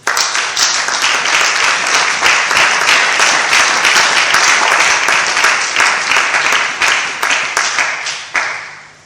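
A church congregation applauding, loud dense clapping from many people sustained for several seconds before tapering off near the end.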